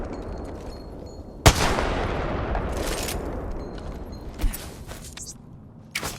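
Gunfire in the video game Apex Legends: a loud sharp shot cracks out, then a sustained rumbling roar follows, with further abrupt blasts near the end.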